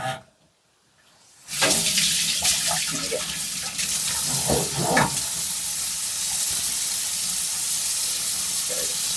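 Tap water runs steadily into a basin while hair dye is rinsed out, a continuous broadband splashing after a brief quiet start, with occasional louder splashes and knocks close by.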